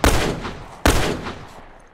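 Two sharp gunshots in The Last of Us Remastered, about a second apart, each a loud blast followed by a decaying echo tail.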